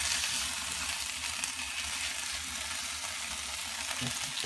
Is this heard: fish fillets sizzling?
yes